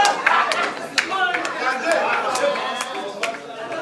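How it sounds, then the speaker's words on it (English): An audience at an anniversary celebration claps in sharp, scattered bursts amid crowd chatter, with voices talking throughout the steady clapping. "Clap for yourself."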